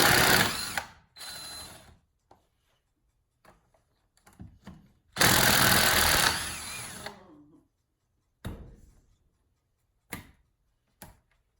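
A power tool backs out the two 10mm bolts on the thermostat housing of a Polaris 754 big bore engine. It runs in short, loud whirring bursts separated by silences and small clicks and taps.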